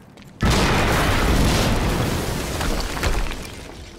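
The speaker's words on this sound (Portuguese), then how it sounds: "acabamos de ouvir uma explosão perto do perímetro da coleta" A sudden, loud, close explosion in the Quantum Break video game bursts in with a deep boom, followed by a long rumbling, crackling tail of debris that slowly fades.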